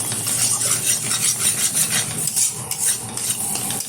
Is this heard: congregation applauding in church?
no